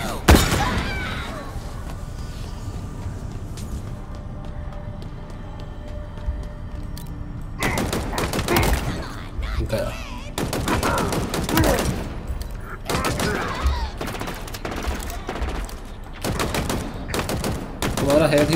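Gunfire from Halo Infinite, with rapid bursts and single shots crackling through the first seconds, then dense volleys from about 7.5 seconds onward over a busy, loud battle backdrop.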